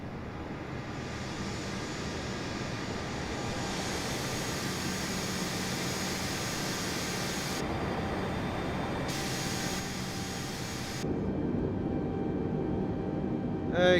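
Qantas Airbus A320 in Microsoft Flight Simulator, a steady broadband jet engine and cabin roar holding at constant loudness throughout, swelling slightly near the end.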